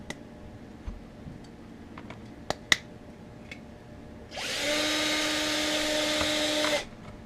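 A few sharp ticks and clicks in a quiet room, then a power drill whirs steadily for a couple of seconds into a Hot Wheels Chevy stepside toy truck before stopping.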